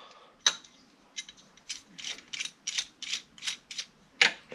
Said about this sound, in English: all you gotta do is tighten it down just like you would any other fitting